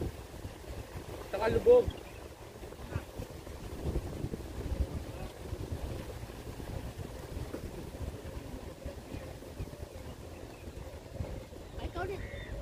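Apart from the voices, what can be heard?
wind blowing outdoors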